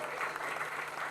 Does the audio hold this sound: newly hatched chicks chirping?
no